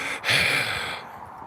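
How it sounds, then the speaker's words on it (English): A close, audible gasping breath is drawn in the dark, one sharp inhale that trails into a softer breathy exhale, heard alone without talk. "Deep breathing in the dark."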